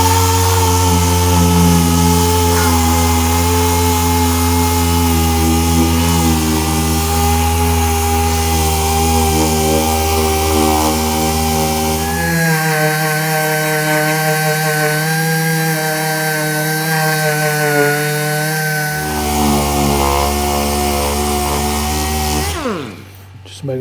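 A DA sander fitted with 80 grit sandpaper works a car body panel, its loud, steady motor whine running throughout with a shift in pitch partway as pressure changes, then cutting off at the end.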